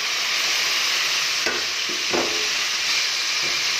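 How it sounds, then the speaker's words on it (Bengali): Hilsa fish pieces sautéing in a pan for a taro leaf curry, a steady close hiss of frying oil with a few brief scraping stirs; no talking. "মাছগুলি ভালো করে কষিয়ে নেব।"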